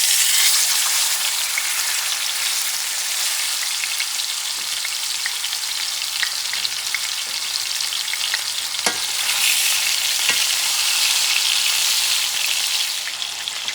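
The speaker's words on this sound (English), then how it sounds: "So I'm going to put the pork chops in." Pork chops fry in oil in a cast iron pan over medium-high heat, a loud, dense, steady crackling sizzle up close, with a couple of sharp pops and no talking.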